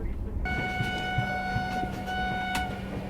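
The Indore–Amritsar Express passenger train runs near Mathura railway station, with steady wheel rumble, a sustained horn tone and occasional clanks, and a voice speaks over it.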